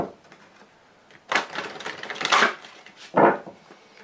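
A deck of cards is shuffled and cut during a card reading, giving several close, crisp riffling and slapping bursts with short pauses between them and no talking.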